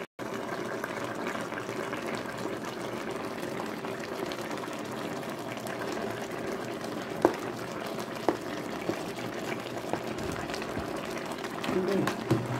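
Soup with dried okra simmers in a pot, a steady bubbling hiss with a few faint clicks, and a voice speaks over part of it.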